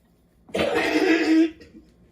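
A single harsh, rasping cough burst lasting about a second, close and fairly loud, followed by quiet.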